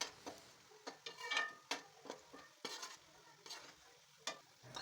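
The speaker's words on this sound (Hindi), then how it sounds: "अब हम इसमें प्याज डालकर उसे फ्राई कर लेंगे।" Onions for aloo matar pulao fry in a pan, with crackling sizzle broken by irregular scraping stirs that sound close and fairly quiet.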